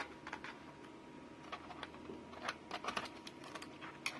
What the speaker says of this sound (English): take a key off here real quick and show you.